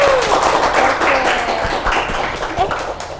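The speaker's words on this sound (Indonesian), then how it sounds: "Bisa beri tepuk tangan untuk Widya." Studio audience applauds a silat athlete named Widya after her tunggal IPSI form demonstration: a broad, steady wash of clapping from several people, fairly close, with voices and chatter mixed underneath throughout.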